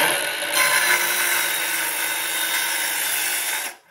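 Milwaukee M12 Fuel cordless circular saw cutting across the grain of wood, a loud, steady high-pitched whine for about three seconds that drops away sharply at the end, with no talking.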